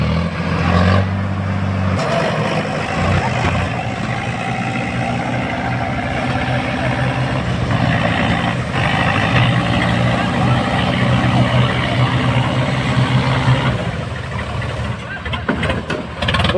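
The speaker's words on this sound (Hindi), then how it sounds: "ये छोटा ट्रैक्टर है वो बड़ा ट्रैक्टर है, दोनों भाई भाई हैं" A small and a large tractor run their engines during a load test while carrying about 31 and 26 quintals. Both give a steady, close diesel drone that shifts in pitch, with voices talking over it.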